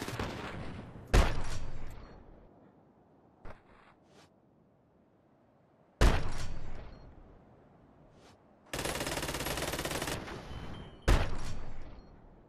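Gunfire from the video game GTA V: several loud, sharp shot bursts separated by quiet gaps, with one sustained stretch of rapid fire lasting over a second, all heard without talking.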